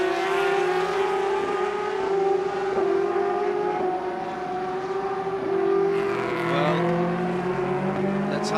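Porsche 919 Hybrid LMP1 race cars at the 6 Hours of Bahrain endurance race give a loud sustained engine whine with shifting pitch, as cars pass by continuously.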